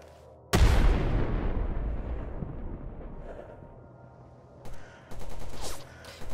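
A grenade explodes in S.T.A.L.K.E.R. Anomaly with a sudden loud blast whose rumbling roar decays over a few seconds, followed by scattered bursts of gunfire.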